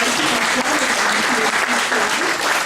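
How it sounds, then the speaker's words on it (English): A steady, dense round of applause rises from the crowd at a Guiding Eyes for the Blind guide dog graduation, honoring the puppy raisers, continuous and fairly loud throughout. "give them a warm round of applause"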